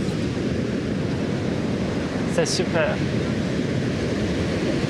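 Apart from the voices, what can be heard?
large ocean waves crashing on a beach in Brazil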